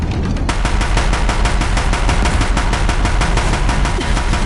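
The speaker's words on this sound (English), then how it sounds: "Warriors keep firing, this bridge will go." Warriors in a video game fire rapid automatic gunfire at a bridge, and the loud, evenly spaced bursts keep going without a break from start to finish.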